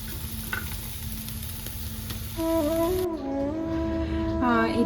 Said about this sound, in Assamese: এইফালে এখন সৰু কেৰাহী লৈ ইয়াতে আদা নহৰুকেইটা অলপ ৰ'ষ্ট কৰি ল'ম